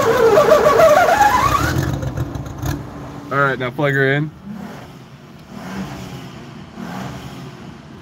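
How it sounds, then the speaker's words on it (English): An Infiniti QX4 engine revs in the background, a rising mechanical whine early on that fades under close, loud speech from a nearby man during work on the fuel pump. "He's just sitting in his Infiniti QX4 just revving the engine."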